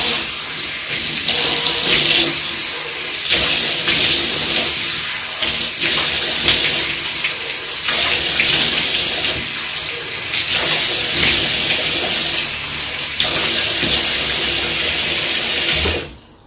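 A bathroom sink tap runs hard while a face is washed, a loud, continuous hiss of water spattering into the basin with splashes and small breaks in the flow, ending abruptly as the tap shuts off.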